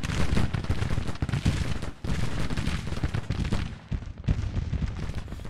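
Artillery fire in the Civil War strategy game Grand Tactician: The Civil War, a dense and continuous battlefield roar of booming cannon and crackling volleys that stays loud throughout, briefly dips near the middle and again toward the end, with no voices.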